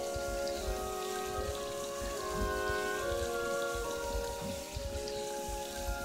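Maple bacon frying on a Denali Pro griddle makes a continuous, even sizzle and crackle like steady rain, with faint tonal sounds running underneath.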